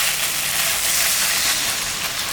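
Water poured into a pan of frying spice paste for a fish curry: a steady, moderately faint hiss and sizzle with no talk.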